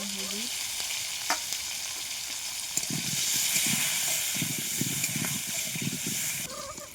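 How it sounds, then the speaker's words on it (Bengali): Potatoes seasoned with a little salt and turmeric fry in a pan, hissing and sizzling steadily up close, with a few stirring scrapes and knocks as the sound swells in the middle. "আলুগুলো আমার লাল লাল করে ভাজা হয়ে গেছে"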